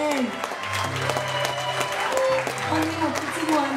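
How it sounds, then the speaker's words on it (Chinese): Applause from a wedding audience welcoming the bride and groom in a park, steady clapping heard beneath a speaking voice and a musical tone throughout. "As they are walking through this romantic park, let the cheers, loudest applause, welcome them."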